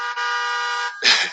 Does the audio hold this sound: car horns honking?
yes